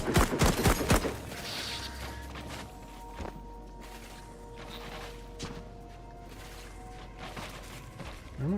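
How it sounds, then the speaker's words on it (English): Gunfire in the sci-fi shooter Memories of Mars starts as a loud burst of rapid shots, then drops to sparse distant cracks and thuds over a low mechanical hum. "Where am I being shot from?"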